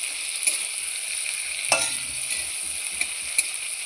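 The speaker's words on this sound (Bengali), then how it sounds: "ভাজার পর কড়াই যে তেল ছিল আমি ওই তেলে এবার বেগুনগুলোকেও ভেজে নিচ্ছি" Eggplant pieces fry in leftover oil in a wok, a constant bright sizzle close by, with a few sharp spatula scrapes and knocks as they are turned.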